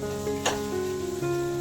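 Potatoes fry in a pan in a home kitchen, a close sizzling hiss with a brief sharp crackle and faint tonal hum underneath.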